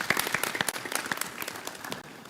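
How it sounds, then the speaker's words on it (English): Audience applause at a city council meeting in Enterprise, a fairly close, moderately loud burst of many hands clapping in a dense, irregular patter for about two seconds, with no voices. "So let's give a round of applause to the City Parks group for putting that course in."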